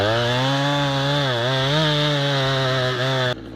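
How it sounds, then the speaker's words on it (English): A chainsaw revving hard at a logging site in a Canadian forest, cutting through a large tree trunk with a loud, sustained buzzing whine that rises and dips under load, then drops off abruptly at the end. "Modern chainsaws and mechanized equipment slice through even the largest trunks with astonishing speed and accuracy"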